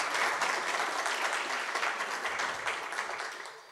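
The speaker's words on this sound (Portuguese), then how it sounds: "Uma salva de palmas para o professor Fabiano." Audience applause for Professor Fabiano at a PUC Paraná Café Filosófico event, a dense steady wash of many hands clapping that holds evenly for nearly four seconds before easing off slightly at the end.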